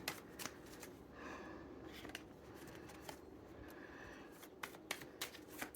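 Tarot cards are shuffled close and softly in a quiet room, with crisp riffling bursts and light taps scattered throughout.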